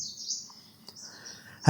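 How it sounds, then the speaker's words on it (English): Birds tweet outdoors in Coorg, with a few high, thin chirps and calls at moderate loudness over faint background hiss, ending in a brief louder rustle. "Listen to the birds tweeting,"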